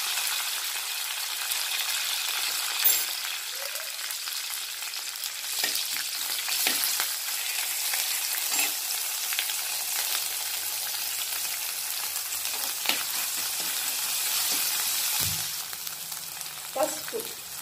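Curry leaves, garlic paste, mustard seeds and cumin frying in a tablespoon of hot oil for a ridge gourd tamarind stew, a long steady sizzle with occasional stirring scrapes and clinks, close and even.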